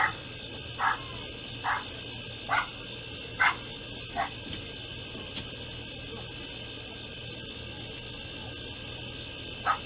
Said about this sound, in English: Bunch of dogs in the house.